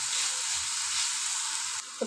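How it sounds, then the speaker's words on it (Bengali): Sweet coconut filling fries in a pan, a steady, even sizzle close by that cuts off near the end with a soft knock. "তো পুরটাকে আমি ভালো করে ভাজা ভাজা করে নিচ্ছি"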